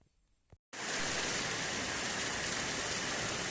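Steady heavy rain pours down on a farm field, a dense continuous hiss that starts abruptly after a brief quiet moment and stays loud and even throughout.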